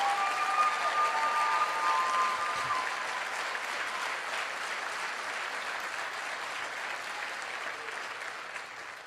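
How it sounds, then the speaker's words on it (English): A large audience at a motivational speaking event breaks into sustained applause, dense and steady throughout, loud at first and easing slightly toward the end, with no talking over it. "Give yourself a round of applause."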